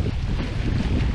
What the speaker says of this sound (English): The wind is just horrendous